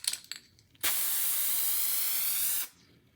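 Aerosol spray paint hisses onto an SUV being repainted at home, a single steady burst lasting about two seconds, loud and close, starting and stopping abruptly.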